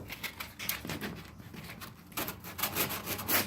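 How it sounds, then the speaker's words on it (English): Sandpaper rubs back and forth against a painted wall to strip off the paint, a close, rhythmic series of raspy scraping strokes with uneven pressure. "you wanna sand that down"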